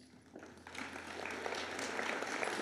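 Applause rises at an 8th grade honor roll bridging ceremony, swelling from quiet to a steady wash of audience clapping over a couple of seconds, heard from a distance.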